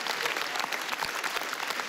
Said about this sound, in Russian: Можно встречать аплодисменты, конечно.